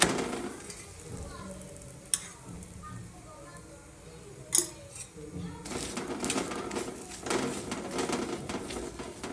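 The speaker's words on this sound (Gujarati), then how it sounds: "આલુ પરોઠાને ઓઇલ અથવા તો બટરથી બંને બાજુ સારી રીતે શેકી લઈશું." Aloo paratha fries in oil on a griddle, a soft, steady sizzle with faint scraping and a couple of sharp clinks, quiet and close, with occasional bird coos in the background.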